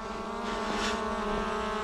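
A Skydio 2 camera drone flies with a steady, continuous propeller whine and hum, fairly close and constant throughout, with no talking.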